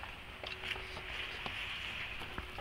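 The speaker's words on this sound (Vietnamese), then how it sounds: "trời đang đổ mưa" Rain patters steadily on a floating house, a soft, even hiss with scattered light taps, faint and continuous with no voices.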